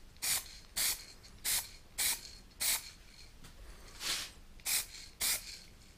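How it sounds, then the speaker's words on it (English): Chrome spray paint hisses from an aerosol can onto a Mazda RX8 shift knob in short, evenly spaced bursts, about nine sharp sprays with brief pauses between, close and fairly loud with no talking. "I'm going to give one last layer of chrome paint on this chef knob to fill all the scratches"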